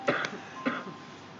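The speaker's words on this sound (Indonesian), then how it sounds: "Buat siapa kau batuk?" A person gives two short coughs close by, each a brief, soft rasp separated by a pause, with no talk.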